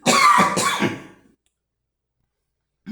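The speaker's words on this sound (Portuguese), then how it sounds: "Estou um pouco tossindo por causa do resfriado" A man with a cold coughs in one short rough burst of several hacks, followed by silence and the start of another sound at the very end.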